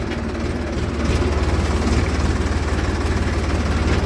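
A Ford tractor engine idling and running on a farm, a loud, steady low rumble with a rhythmic throbbing pulse throughout and no speech over it.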